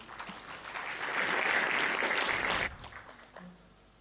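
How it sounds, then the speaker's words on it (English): Conference audience at the 6th Sacco Indaba at Esibayeni Lodge, Matsapha, bursts into applause that builds to a full, steady clapping, then drops away abruptly, leaving a few scattered claps and faint room noise. "A round of applause once again,"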